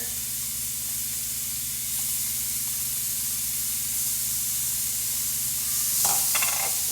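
Half an onion, chopped, cooking in a pan with beef, giving a steady, even sizzle and hiss that runs throughout, with a brief louder crackle near the end and no talking.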